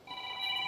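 A mobile phone rings during a live talk, giving a short, steady electronic tone that sounds close and clear over quiet room noise.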